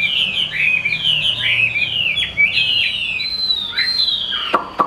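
A white-winged mutant Chinese hwamei sings close and loud, pouring out rapid varied whistles, trills and slurred chirps in a continuous bright stream, ending with a few sharp clicks.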